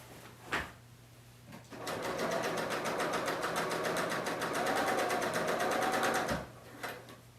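A Bernina L890 serger runs steadily while sewing a hem, a fast even whir lasting about four and a half seconds, close and alone, with brief handling knocks before and after.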